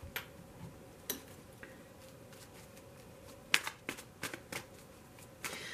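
Tarot cards are shuffled and drawn in a quiet room, producing sparse, soft slaps and flicks spaced irregularly, with a small cluster of crisp snaps near the end.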